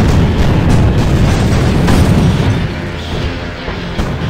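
Missile strikes in The Incredible Hulk game on PC: a dense, continuous roar of overlapping explosions and rumbling booms, very loud, easing slightly toward the end, with no voices.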